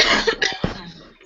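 A single burst of close, harsh coughing from one person, a few rough hacks in quick succession that fade into quiet breathing.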